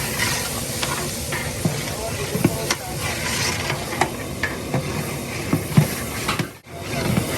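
Chopped onions and capsicum hitting a browned paste in a large pot for a 60 kg batch of chicken Manchurian, giving a steady broad sizzle with stirring scrapes and clatters, a voice briefly audible over it.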